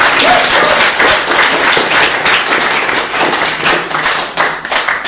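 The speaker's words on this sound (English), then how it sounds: "Can we give a round of applause for Reverend Patricia for that amazing talk" A church audience gives a loud, sustained round of applause for Reverend Patricia after her talk, dense clapping filling the room for several seconds with no voices over it.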